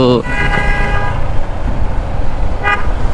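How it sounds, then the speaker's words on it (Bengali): Busy road traffic in Kushtia city: a loud car horn toots at the start and another honks near the end, over a constant rumble of passing vehicles. "রাস্তায় গাড়ি ঘোড়া একটু বেশি, কিছু করার নাই"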